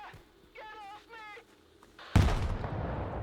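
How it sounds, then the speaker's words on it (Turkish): In the video game S.T.A.L.K.E.R. 2: Heart of Chornobyl, a sudden loud bomb explosion bursts in after a few quiet seconds of faint tonal game sounds, its rumbling roar lingering to the end. "Bir bomba patladı."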